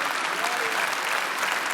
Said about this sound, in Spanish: Aplauda duro al Señor